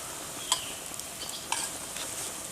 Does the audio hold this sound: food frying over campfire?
yes